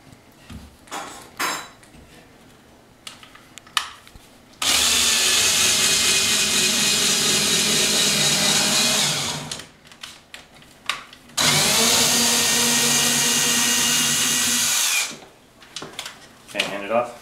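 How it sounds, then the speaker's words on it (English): A cordless drill that may be low on battery runs in two long, loud sustained bursts, with clatter and people talking in the gaps between them. "I think this drill might be running out of juice"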